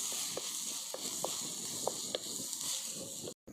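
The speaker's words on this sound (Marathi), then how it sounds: "टोमॅटो पण मस्त परतून घ्यायचे आता थोडस लाल तिखट टाकलं" Tomatoes with red chili powder sauté in a pan, a soft steady sizzle broken by several light spoon taps and scrapes, faint and close, ending in a brief cut to silence.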